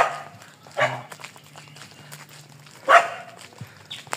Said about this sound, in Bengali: কুকুর চিল্লাচিল্লি করতেছে,